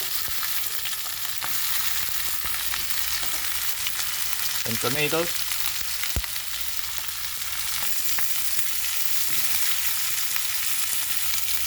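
Onions, garlic and tomatoes sauté in a pan for a vegan corn, carrot and sayote dish, giving a steady, close sizzle with occasional stirring scrapes and a brief squeak partway through.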